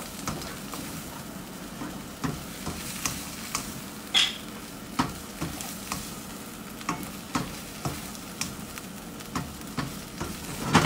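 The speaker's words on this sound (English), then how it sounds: "Always about the frying." Food sizzles in a pan with a steady frying hiss and regular stirring clicks and scrapes. The sound is close and moderately loud, and no one talks.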